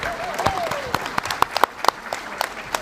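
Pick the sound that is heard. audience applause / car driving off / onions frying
audience applause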